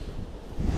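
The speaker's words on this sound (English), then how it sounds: "it's getting rather windy out here" Gusty wind rumbles across an open field outdoors before a storm, low and buffeting against the microphone, swelling louder toward the end, with no talk.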